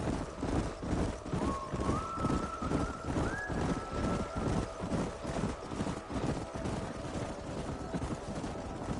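Several horses galloping together in a Red Dead canyon, a loud, steady rhythmic drumming of hooves, with a rising whistle-like tone briefly over it.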